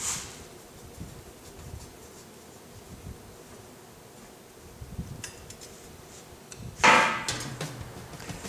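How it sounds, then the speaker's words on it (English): A mallet strikes an ATV steering knuckle clamped in a bench vise in a repair shop, landing as a single firm knock late in an otherwise quiet stretch. "put it down on the vise and take a mallet to it and see if I can't straighten it out"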